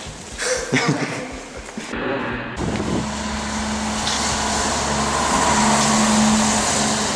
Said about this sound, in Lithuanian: Važiuoja autobusą.